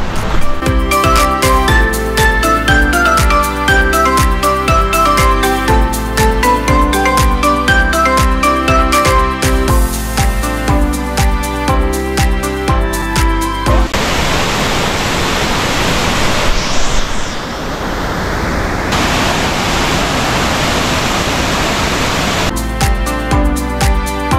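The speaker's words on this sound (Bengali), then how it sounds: "প্রচুর স্রোত এখন, প্রচুর।" Strong current of a rushing stream in Purulia, a loud, steady broadband roar lasting several seconds, with music playing before and after it.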